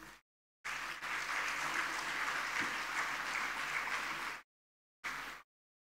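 Audience applause at a university convocation ceremony, a loud, steady burst of clapping that holds for about four seconds, stops, then returns briefly before ending.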